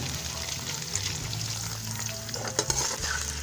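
Chopped onions sizzling and crackling in hot oil in a pan for chicken karahi, a steady close frying hiss with occasional stirring scrapes and no voices.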